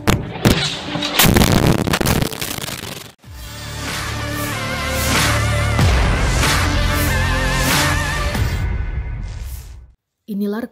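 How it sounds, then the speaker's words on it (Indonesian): Heavy gunfire from a Russian tank shelling a civilian house occupied by soldiers, loud sustained blasts and rumbling bursts over several seconds, with shouting voices heard amid the firing before it abruptly cuts to near silence. "tembakan tank Rusia menyasar salah satu rumah warga sipil yang dihuni pasukan Rusia"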